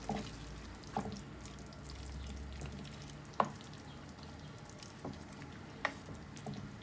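Chicken karahi with yogurt sizzles softly in a pan, a low, steady fry broken by a few clinks of a spoon against the metal.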